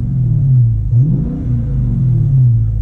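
A 2015 Dodge Charger R/T Scat Pack engine revs up from idle while the car sits still, a loud deep rumbling burst with a short swell in pitch. There is no talk over it.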